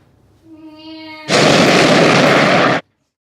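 An atomic bomb blast effect dropped over Hiroshima in 1945: a rising tonal whine gives way to a sudden, loud, sustained roar of broadband noise that holds for about a second and a half before cutting off abruptly.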